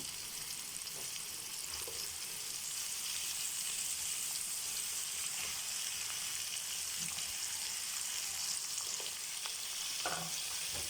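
Potatoes sizzle steadily in a hot pan of oil with onion and green chili for a bitter gourd and bean seed fry, a continuous bright frying hiss with occasional stirring clinks.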